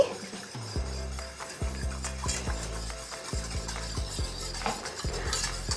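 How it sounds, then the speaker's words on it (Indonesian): Metal spoon stirring instant pudding mixture in a pot, steady scraping with repeated clinks against the rim, close and moderately loud, no talking. "Kita tuang semua ke sini. Nah, kita aduk lagi."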